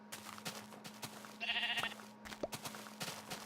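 Sheep in Minecraft bleat in a short, wavering call near the middle, moderately close, set among soft game ambience, light footsteps and small clicks.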